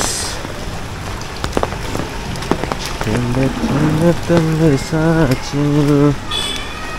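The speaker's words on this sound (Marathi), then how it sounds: "पाऊस पडतोय पाऊस" Rain falls steadily in a continuous wash, with scattered drips and knocks, while someone talks over it in the second half.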